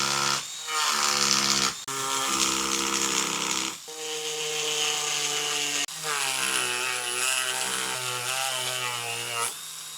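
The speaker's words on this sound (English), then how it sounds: "I'm going to go ahead and cut in the grooves I need for the fins" A power tool whines loudly and close-up as it cuts fin grooves into a wooden hickory shad crankbait lure, the high buzzing tone shifting in pitch across several short passes separated by brief breaks.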